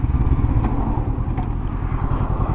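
A Honda CB500X motorcycle engine rumbles steadily and close by on a road, a continuous low drone with a faint clatter running through it.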